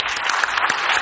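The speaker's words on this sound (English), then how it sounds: "please give a big round of applause." A crowd applauding, a dense steady wash of clapping from many hands, fairly loud and continuous throughout.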